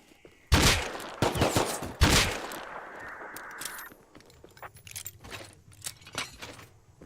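Gunfire in the Rust video game: a few loud, sharp shots crack out in quick succession, followed by quieter scattered clicks and low in-game ambience.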